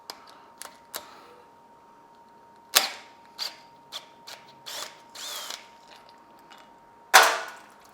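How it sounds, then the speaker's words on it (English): A power tool rattles in short sharp bursts while loosening a long 6 mm Allen bolt at the bottom of a 43 mm inverted Harley FXLRST fork leg, with the impacts irregularly spaced over a quiet background and the loudest bursts at the start and end. "You're going to need a long 6 millimeter Allen to bust this bolt loose."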